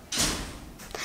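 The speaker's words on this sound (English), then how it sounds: "We close the big door." A big door at a house swings shut with a single broad whoosh and thud, followed by fading room noise and a faint second knock near the end.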